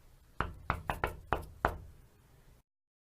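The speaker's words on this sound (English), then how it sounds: "she knocked on the door" Six sharp knocks on a door during a stage pantomime of Little Red Riding Hood, landing in an uneven rhythm, close and distinct, before falling silent.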